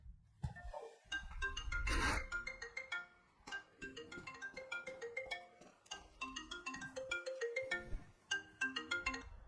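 A mobile phone ringtone for an incoming call plays a bright repeating melodic pattern of chimed notes, loud and close, running continuously without speech.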